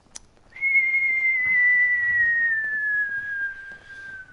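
A person whistles in imitation of an incoming Fallout 4 nuke, producing one long, clear descending whistle that slowly falls in pitch over about four seconds, heard alone against a quiet background.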